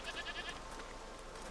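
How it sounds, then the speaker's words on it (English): Goats bleating in the video game A Plague Tale: Requiem, a few wavering calls over a steady ambient background, moderately faint and with no talk. "What's over there? Goats!"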